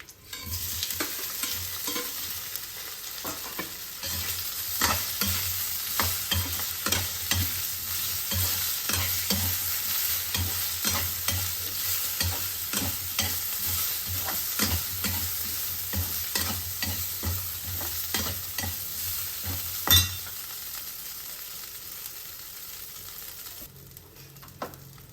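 Chopped fenugreek-leaf filling with curry leaves is stir-fried in a pan, with a steady sizzle broken by repeated scraping and clinking strokes of a spatula that stop near the end.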